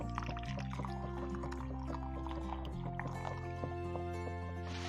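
Cooking water poured from a pan of squid into a bowl, a steady liquid stream splashing and filling with faint drips, close by with a low hum underneath.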